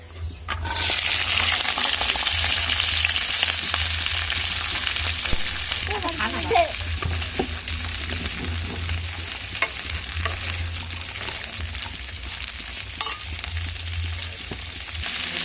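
Chopped vegetables frying in hot oil with panch phoron, a loud continuous sizzle that holds steady throughout, with light stirring clinks.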